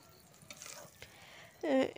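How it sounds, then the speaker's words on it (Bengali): Eggplant chops (begun chop) fry in hot oil as they are turned over, giving a low, steady sizzle with soft stirring scrapes and a louder burst of sizzling near the end, with no talk. "আমি সুন্দরভাবে এই বেগুন চপগুলো ভাজছি, উলট পালট করে দিচ্ছি"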